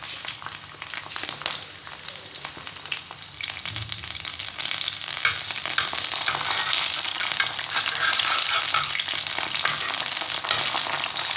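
Green chilies frying in hot oil for a Pakistani fried egg breakfast, a continuous crackling sizzle that grows a little louder and denser partway through, close and alone without talk.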